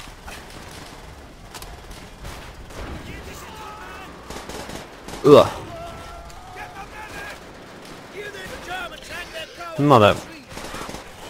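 Two loud SVT-40 rifle shots ring out in Call of Duty World at War, spaced several seconds apart over quiet battlefield ambience, with players chatting in Hungarian in between.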